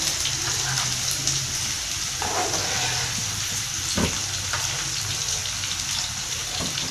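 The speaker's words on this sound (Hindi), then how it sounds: "तेल काफ़ी तेज़ गर्म हो गया था हमारा ना। मिर्ची डाल देती हूँ मैं इसमें।" Whole chilies frying in very hot oil for a mash daal tempering, a steady hissing sizzle with occasional pops and clinks, close and moderately loud.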